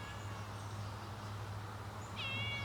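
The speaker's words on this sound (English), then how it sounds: "I see this cat around here all the time." A tailless stray cat with a short nub meows once, faint and fairly distant, near the end, over a steady low hum and outdoor background noise.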